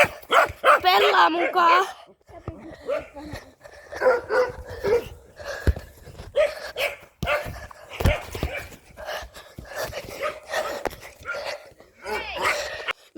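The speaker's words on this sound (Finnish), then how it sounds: "kun koira haukkuu" A dog barks repeatedly in short bursts in the background while people talk throughout, the yaps and barks partly masked by the voices.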